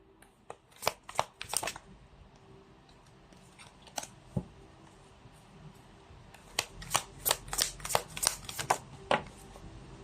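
Tarot cards being shuffled and drawn make crisp, sharp snaps and flicks, scattered at first and then gathering into a quick run of close card slaps near the end, over quiet room tone.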